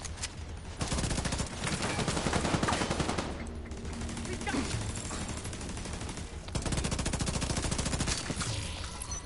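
Sustained automatic gunfire in the video game The Division 2, loud dense bursts of rapid shots in long stretches with brief pauses between them, close and continuous.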